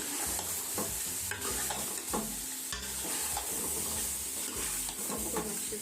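Chopped tomatoes being stirred into biryani masala frying in a pan: steady sizzling and crackling oil with repeated scraping and clattering strokes of a spoon, close and continuous throughout.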